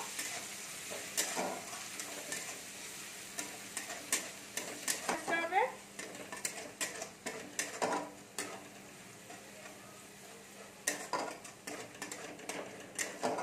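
Ingredients for masoor dal tadka, including whole poppy seeds, frying in a pan: a soft sizzle with irregular spatula scrapes and stirring clatter, close and moderately loud.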